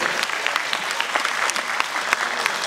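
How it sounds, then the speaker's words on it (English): Children in a room at an Onam 2017 celebration clap together, a steady patter of many small hands with a few sharper claps popping out above the rest, filling the whole stretch without talk. "If you are a child, let me hear you clap."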